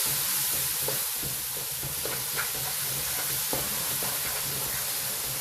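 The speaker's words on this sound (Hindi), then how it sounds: "और ये हमने कोरिएंडर पाउडर थोड़ा सा डाल दिया, और ये 1 टीस्पून हमने पपरिका पाउडर डाल दिया इसके अंदर। और इसको करते हैं मिक्स।" Keema mixed with coriander powder and paprika stirred in a frying pan, a steady close sizzle under intermittent scraping strokes of the spoon, with no talk.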